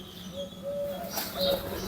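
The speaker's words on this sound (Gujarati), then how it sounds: "ઓલી પર આ કબૂતર છે ઘૂઘોડી જ લાગે કબૂતર લાગે" A few soft, drawn-out coos from a single pigeon in a village, quiet and close, with faint background noise between the notes.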